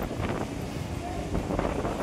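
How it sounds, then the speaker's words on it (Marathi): Gusty wind at Alibag Beach buffets the microphone in a steady roar, with faint voices of a crowd in the background. "वारा अजून चालूच आहे"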